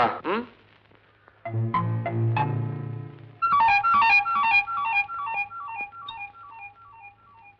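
A phone's electronic ringtone plays a bright, repeating melodic pattern of beeping notes, loud and close, after a few brief tonal sounds at the start, in a Malayalam film.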